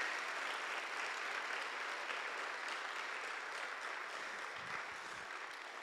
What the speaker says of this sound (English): Let's give John one more round of applause.